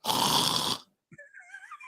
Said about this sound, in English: all you can hear is the snore